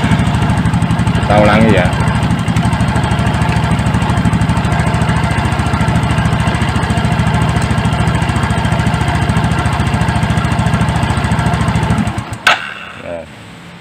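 A Yamaha Mio scooter engine, restarted and running rough, chugs loudly and unevenly up close for most of the stretch before cutting out abruptly near the end, with a few spoken words over it.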